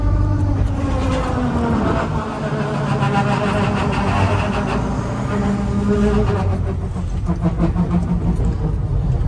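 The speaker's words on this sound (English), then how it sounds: "That noise you're hearing is the SCS transfer case." A straight-cut gear transfer case in a school bus gives a loud, continuous mechanical whine with shifting pitch over a heavy engine rumble, steady throughout.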